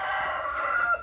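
A rooster crows in a large rural garden where chickens roam, one sustained, strained call lasting about a second at moderate distance, with no talk.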